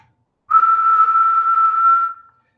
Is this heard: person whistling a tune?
yes